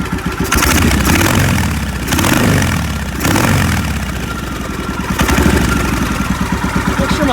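A 1993 Kawasaki Vulcan 1500 motorcycle engine idles loudly and close by, its firing pulses running with a few uneven surges and dips in rhythm that hint at a misfire. No one speaks.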